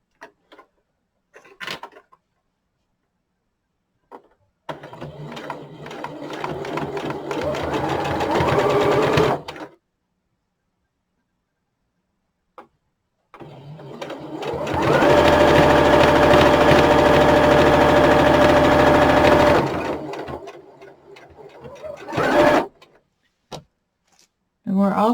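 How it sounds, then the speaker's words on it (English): Sewing machine stitching a half-inch seam on a knit toque, running in two close bursts of rapid, steady whirring, about five and six seconds long, separated by quiet pauses and a few light clicks. "we're going to sew 1/2 inch seam allowance along here."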